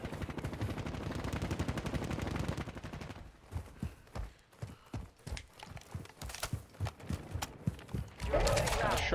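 Rapid gunfire in the battle royale shooter Warzone, a fast continuous burst followed by scattered shots and clattering impacts amid game noise, with voices talking over it.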